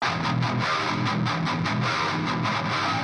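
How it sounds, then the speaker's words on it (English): A heavily distorted 8-string guitar riff through a Line 6 Helix with a Mesa Boogie cabinet impulse, played in tight rhythmic chugs with short gaps, loud and close, no talking. "So with the guitar part, this is what I ended up coming up with."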